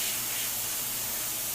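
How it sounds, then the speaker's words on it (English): An airbrush sprays paint onto a horned skull model, a smooth, steady, close hiss with no pauses and no voices. "it's spraying really nice and smooth"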